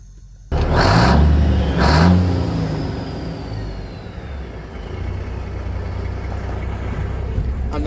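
A Detroit inframe engine in a Marmon camper truck gives two loud, close revs in quick succession, then drops back to a steady, rumbling idle.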